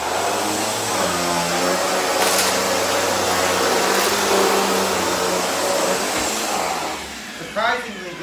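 A Bissell Cleanview II bagless upright vacuum cleaner runs with a steady whirring motor drone and airy suction hiss, loud and close, with a brief bump and a shift in pitch near the end.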